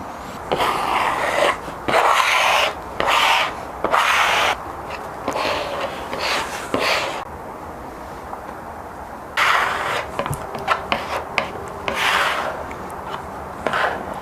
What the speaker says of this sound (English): Time to apply the glue, guys.